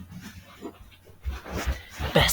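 A dog pants in short, rapid breaths at close range. Low rhythmic huffs build toward the end and finish in a louder burst. No one speaks over it.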